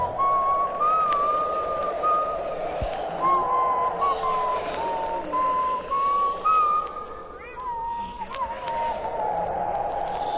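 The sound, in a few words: person whistling to himself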